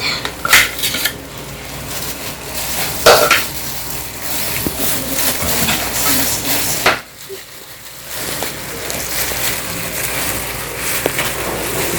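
Kimchi paste is stirred in a bowl, with repeated clinks and scrapes of a utensil against the dish, fairly close and loud, a brief pause near the middle, then more clattering stirring.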